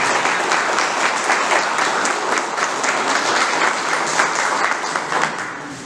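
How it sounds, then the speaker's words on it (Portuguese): A lecture audience gives a warm round of applause for the speaker, a dense, sustained wash of many hands clapping close by that fades slightly at the end. "Queremos uma calorosa salva de palmas para o nosso palestrante"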